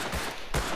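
In the video game Rust, a grenade goes off as two short, sharp explosive bursts less than a second apart, moderately loud with no voices.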